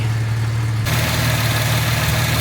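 A Jaguar MKII engine idles steadily up close, a low continuous rumble with a deep hum, heard from beneath the car with no talking.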